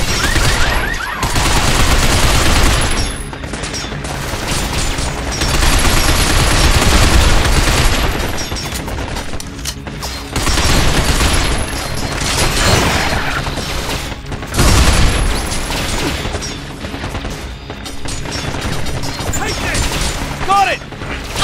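Sustained squad gunfire in the video game Binary Domain, loud and dense throughout, with bursts of automatic fire and booms swelling and easing in waves, the odd brief voice shout under the barrage.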